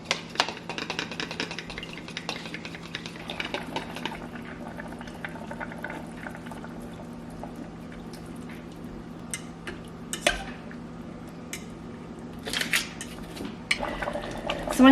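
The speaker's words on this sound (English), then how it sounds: "And now we can mix in our slurry." A spoon stirs a cornstarch slurry into sweet and sour chicken bubbling on saute in an Instant Pot, giving a steady low simmer with scattered scraping, clinks and sloshing.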